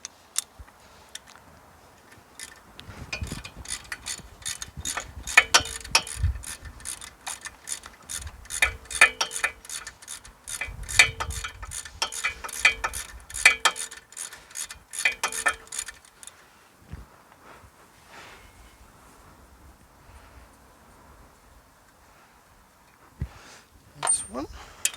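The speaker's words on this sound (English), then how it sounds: "Now we'll go back to the wrench to speed things up" A hand ratchet wrench clicks rapidly and continuously while loosening a wheel hub on a Mitsubishi 3000GT, a dense, close run of metallic ticks lasting about ten seconds before stopping, with someone talking at times and a few stray clanks afterward.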